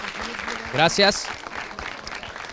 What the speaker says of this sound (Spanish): Un aplauso para Guava, por favor.